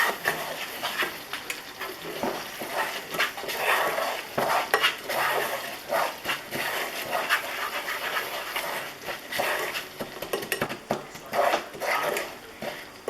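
A utensil stirs and scrapes sugar in a pan as it melts toward caramel for flan, giving irregular close scraping and light clinking with a faint sizzle underneath and no talking.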